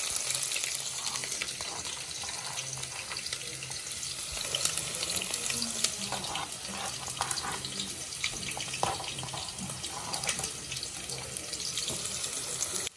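Onions and garlic sizzling in very hot oil beside fresh fish, a loud, steady hiss and crackle that stays even throughout, close with no voices.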